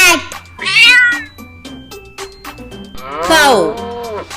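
A cow on a farm moos twice, loud and close, each call a drawn-out low bellow with a gap between them and no voices present.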